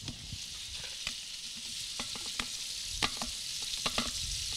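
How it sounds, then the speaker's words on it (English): Crawfish-style pork cracklings frying in a high-performance cooker, a steady hot-oil sizzle with scattered crackles and pops and occasional stirring clatter, moderately close and without talk. "Got the sizzle."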